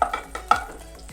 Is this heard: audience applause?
no